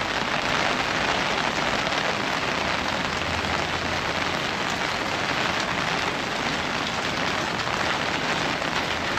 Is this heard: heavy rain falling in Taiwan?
yes